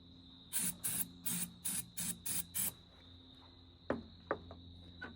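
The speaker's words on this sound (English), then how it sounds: "Let's just hose her down and see what happens." A diesel truck engine being hosed down with water: seven short, loud spray bursts in a steady rhythm, followed by a few sharp clicks and knocks against a low background hum. No talking.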